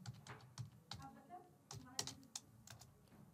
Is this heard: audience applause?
no